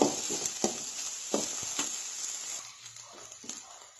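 Maggi noodles with masala and vegetables are stirred and fried on high heat, a faint sizzle under scattered scraping and clinking strokes of a spatula that fade toward the end.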